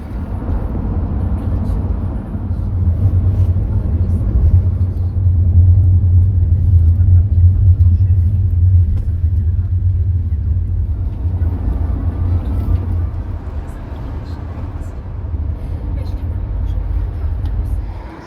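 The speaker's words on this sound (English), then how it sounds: "Here's our bus." A bus rumbles steadily on a road near Aline Community Woodland car park on Lewis, with a low engine drone that swells and fades as it pulls in and moves off, while people talk nearby.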